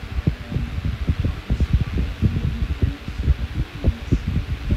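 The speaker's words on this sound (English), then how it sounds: "Hope you can hear the wind stream." A rarely made high-velocity fan blows a rushing air stream close to the microphone, a broad steady whoosh with low, irregular buffeting thumps throughout and no talking.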